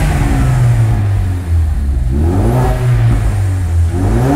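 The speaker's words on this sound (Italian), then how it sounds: "Vai Mirko, faccio uno sgasino." A car engine is revved hard close by, a loud sustained growl rising and falling in pitch over a few seconds, with no voices.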